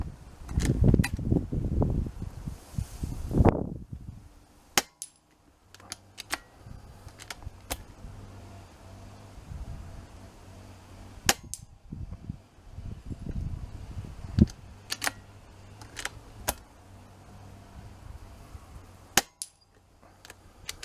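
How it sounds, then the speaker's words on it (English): Rifle shots fired at steel spinner targets 30 yards away at an outdoor shooting range in wind: sharp cracks spaced a few seconds apart, with faint target clangs and gusty, rumbling wind noise throughout. "So I'm going to fire some spinners at 30 yards"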